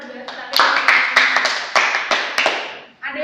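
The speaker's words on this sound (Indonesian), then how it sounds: "tepuk tangan buat Mbak Sati" Classroom claps during an elementary school math lesson, a handful of sharp hand claps in an uneven burst, close and moderately loud, with children's voices chattering underneath.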